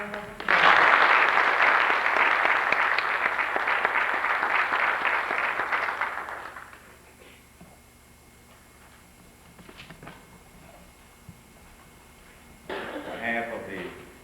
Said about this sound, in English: we can give those recipients another round of applause